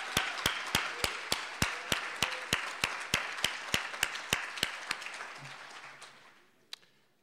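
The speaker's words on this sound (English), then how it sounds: "So please just give them a round of applause." An audience at a benchmarking conference gives a round of applause: a fairly sparse, evenly spaced run of about twenty crisp claps that thins and fades out over several seconds, ending with one last isolated clap.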